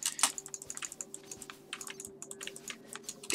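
Rapid, irregular clicking of computer keyboard keys and a mouse during gaming, close and crisp, with a faint steady hum beneath and no talking.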